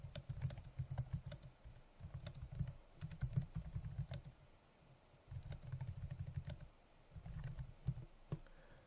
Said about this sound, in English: So if you wanted to type some content here